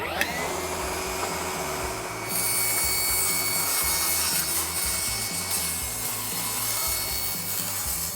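A table saw making a long cut through glue-up stone tile, a steady loud whine and grinding that grows louder a couple of seconds in as the blade bites, running continuously without talk.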